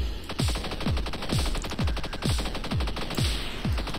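Rapid automatic shooting in the colorful indie video game Shape Wars: a steady stream of punchy, evenly spaced synthetic shots, about two per second, loud and continuous with no talk.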